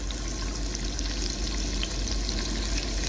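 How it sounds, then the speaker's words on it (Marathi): Garlic dropped into hot oil sizzles in a steady, close, continuous frying hiss with no break. "हे तेल गरम करत ठेवलंय आहे आता त्यात मी लसूण टाकते आहे"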